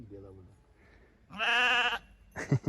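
A sheep gives a clear, loud bleat in the middle, with people talking quietly before and after it.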